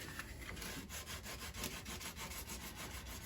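Coarse 40 grit sandpaper scrubs over body filler on a Jeep Patriot in steady, rapid back-and-forth strokes, a close, continuous rough rasping with no voices.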